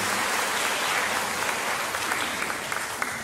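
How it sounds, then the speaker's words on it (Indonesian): An audience of a couple hundred people at a church prayer-and-praise gathering claps together in a dense, even burst, sustained and fairly loud, with a few sharper individual claps standing out near the end. "Kita tepuk tangan buat kita yang hadir sini semua"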